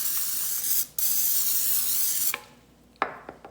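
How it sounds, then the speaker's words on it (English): A long steady hiss of aerosol cooking spray, broken by a brief pause, then a short final burst with a few light clinks afterward; close and loud. "you spray the bottom of your pan and the edges with some cooking spray"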